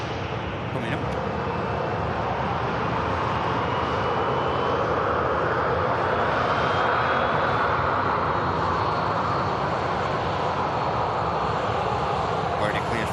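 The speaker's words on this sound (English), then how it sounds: "Already cleared for departure, the ATR." An ATR turboprop airliner makes a full-length takeoff roll at Manchester Airport, its engines a steady, loud, broad roar that holds for the whole stretch, with a faint rising whine above it.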